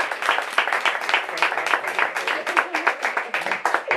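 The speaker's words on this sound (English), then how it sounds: "One more round of applause." A small audience at an independent bookstore author event claps steadily for a few seconds, the individual hand claps distinct and close, with no talking.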